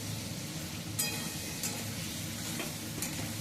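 A paste of ginger, garlic, onion and green chili fries in a pan, sizzling steadily while a spoon stirs it, with a few sharp scraping strokes.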